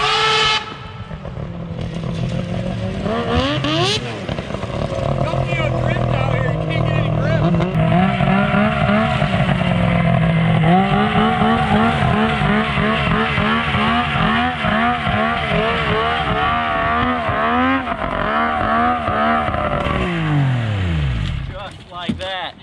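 A snowmobile engine revs and roars continuously on a trail ride, pitch sweeping up and down with throttle, close by, with voices talking over it.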